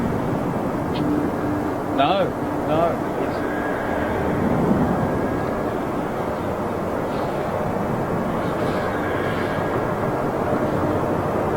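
A Singapore Airlines Boeing 777 at London Heathrow, its broad jet roar steady and fairly distant throughout, with a person briefly talking over it.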